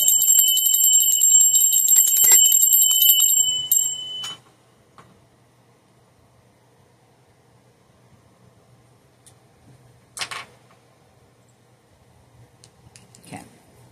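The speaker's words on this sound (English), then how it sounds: "we're going to ring the bell a little bit." Bright metallic bell rung steadily for about four seconds during a tarot card reading, then cut off, leaving near silence with a couple of faint clicks later.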